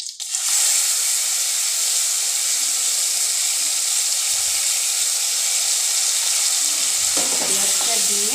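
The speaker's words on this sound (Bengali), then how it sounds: "পেঁয়াজটা দিয়ে আরও ভালো করে ভাজা করে নিতে হবে" Chopped medium onion sizzles steadily in hot oil in a pan, a loud continuous frying hiss with a few stirring scrapes near the end.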